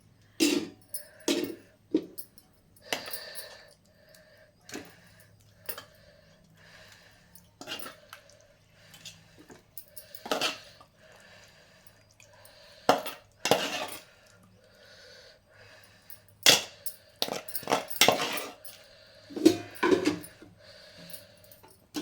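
A spoon scraping and tapping dried fish and cucumber curry from a pot onto a plate, producing irregular soft clinks and wet plops spaced through a quiet kitchen.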